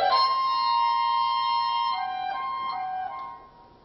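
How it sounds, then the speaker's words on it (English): Petrushka's theme from Stravinsky's Petrushka played by an orchestra, a bright held note breaking into several sharp repeated figures before fading out. "And when Petrushka really goes mad with suffering, his theme sounds like this"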